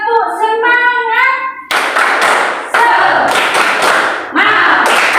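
A classroom of children does a rhythmic spirit clap led by a teacher. A voice first calls out the cue, then bursts of loud, close group clapping and tapping follow in uneven rhythmic clusters.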